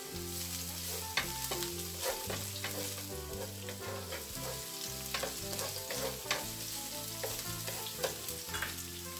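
Onion sizzles steadily as it is stirred into a hot pan for sotanghon guisado, a continuous frying hiss with light scraping, set under a bed of background music.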